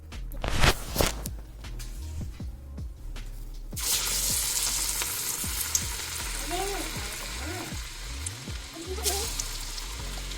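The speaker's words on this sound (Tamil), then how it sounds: "இப்போ இந்த எண்ணெயில் வந்து நான் எல்லாத்தையும் போட போகிறேன்" Sundal vadai dropped into hot oil, first a few clatters and knocks, then a loud continuous bubbling sizzle that carries on steadily for several seconds, close up, with no talking.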